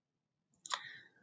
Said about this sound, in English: So if I click on that,